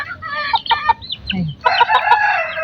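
Chickens cluck and squabble close by during feeding, with young birds snatching food: bursts of short, choppy clucks, a pause, then a denser flurry of calls.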